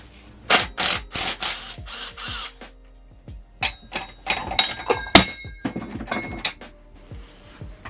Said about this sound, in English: Spanner on.